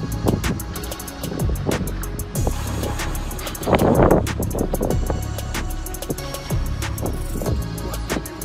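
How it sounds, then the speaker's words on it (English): Ferry caught in strong wind at a Bangkok quayside, with steady loud wind buffeting the microphone, rumbling water and engine noise, and scattered knocks and bangs throughout. "The captain of this ferry lost control because of the strong wind."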